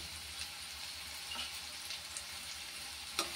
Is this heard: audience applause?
no